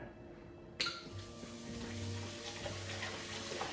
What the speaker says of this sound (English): Pour the 2 full bottles in there?